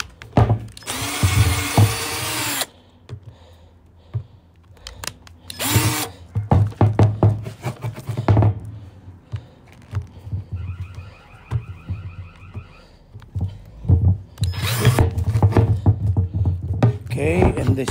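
A power drill whirs in several short bursts, drilling holes in a plant pot, a couple of loud high-pitched runs with pauses between, while a person talks in the gaps.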